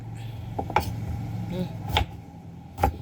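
A knife chops a luffa gourd into triangular pieces on a cutting board, giving a handful of crisp, irregularly spaced knocks over a low background murmur.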